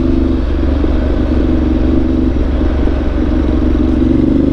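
A Ducati 1200 Multistrada Enduro motorcycle engine runs steadily up close in an urban setting, its continuous low droning rumble holding loud and even throughout.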